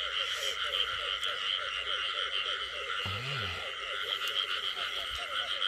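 Field frogs in a waterlogged rice paddy in Ben Tre, Vietnam, croak in a dense, continuous chorus, with one deeper nearby croak standing out briefly and no talk.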